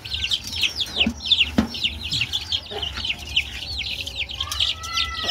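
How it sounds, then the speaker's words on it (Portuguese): Chickens in a new coop make busy clucking and chirping, with a hen's calls over a dense chorus of high peeping chicks, close and continuous throughout with no talk. "Então, agora eu vou colocar a galinha."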